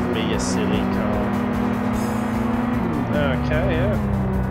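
A car in a Unity racing game drives with a steady engine drone that rises and falls in pitch, with brief tire-like squeals, while someone talks over it.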